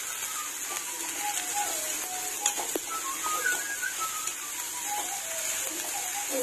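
Cabbage, grated carrot and other vegetables sizzle steadily in a pan for cabbage fried rice, an even hissing fry that holds at a moderate level with no talk over it.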